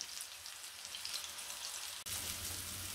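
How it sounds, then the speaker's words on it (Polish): Cabbage rolls frying in hot olive oil in a pan give a steady, dense sizzle with a fine crackle, close and even throughout, with a brief dip just past two seconds. "Teraz obsmażamy je na gorącej oliwie."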